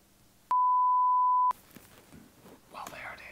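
A single loud, pure censor beep tone lasting about a second, cutting in abruptly and stopping just as suddenly, followed by quiet, faint speech.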